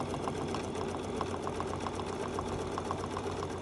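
Steady, continuous whir of a sewing machine stitching through a quilted striped table runner, running at an even fast pace with a rapid rhythmic needle chatter and no voices.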